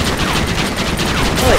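Dense gunfire crackles through the assault on Fort Mercer in Red Dead Redemption on Xbox, a steady barrage of overlapping shots at close range with no clear gaps.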